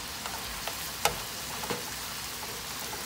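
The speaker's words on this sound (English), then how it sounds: "the chicken is frying" Steady sizzling of chicken frying in a skillet, a continuous crackling hiss with occasional sharper pops.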